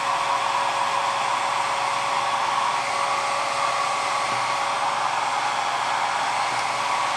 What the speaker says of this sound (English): I brought my hair dryer here and I'm gonna start with low.